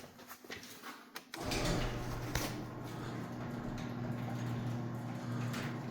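A garage door rolls smoothly and quietly on wheels greased with white lithium grease, a steady low rumble after a sharp start, close by.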